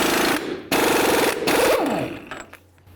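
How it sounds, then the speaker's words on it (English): Impact wrench spinning off the front axle nut on a 1994-2004 Chevy S-10 hub, loud and close, a rapid hammering rattle in long bursts with short pauses, then a falling whine as the tool winds down. "Now the next thing we're going to do is remove our axle nut."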